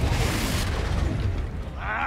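A Confringo fire spell cast in Hogwarts Legacy gives a loud, dense whooshing burst that fills the short moment and trails off into a softer rumble, with a voice heard alongside.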